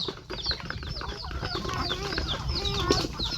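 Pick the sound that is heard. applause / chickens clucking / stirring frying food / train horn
chickens clucking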